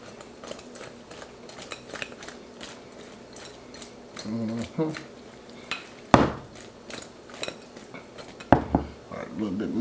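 Hot NuWave oven chicken wings tossed in sweet chili sauce, clattering of dish and utensil with a few sharp metallic knocks and light wet shuffling, close by.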